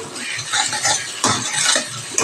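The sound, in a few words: eggs frying and being stirred in oil in pan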